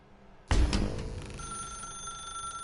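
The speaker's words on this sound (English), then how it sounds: "Now pick up the phone." A telephone rings inside The Stanley Parable video game, a sudden loud bell onset followed by a sustained electronic ringing tone that holds steadily, with no voices.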